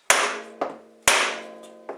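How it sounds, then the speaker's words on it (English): A mallet strikes the body of a drill press chuck hard twice, each sharp, loud, close whack followed by a lighter rebound tap. "And now with the mallet, we'll strike it, like I say, very hard and fast."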